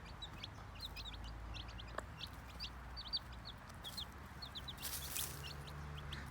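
Newborn Sussex chicks chirp in quick, high, repeated peeps across the whole stretch, with soft low clucking from the hen underneath, fairly faint and close, with no talking.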